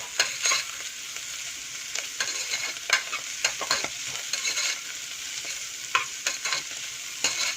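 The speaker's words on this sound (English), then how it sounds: "So let it fry for another a minute or so" Ingredients for a vegan Brussels sprouts and black chana pulao frying in a pot, a constant hiss of sizzling oil broken by repeated sharp scrapes and taps of a stirring spoon.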